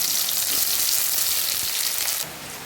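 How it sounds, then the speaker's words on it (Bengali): Potatoes and onions frying in a pan make a dense, even sizzle up close that drops slightly in level near the end; no talking. "এখন আমি আলুটাকেও এখানেই অ্যাড করে দেব। আলুটা হালকা ফ্রাই করে নেব।"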